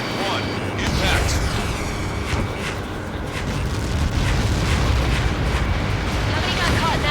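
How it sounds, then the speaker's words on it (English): In the combat flight game Ace Combat 7, a Helios projectile strike sets off a long, heavy explosion, a deep rumbling roar with crackling bursts that swells and holds for several seconds amid other battle noise. "How many got caught in that explosion?"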